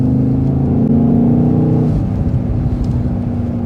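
A 748 hp 2024 BMW XM Label Red SUV accelerates hard from inside the cabin, its loud engine drone rising through the revs before an abrupt gear shift drops the pitch and the climb starts again.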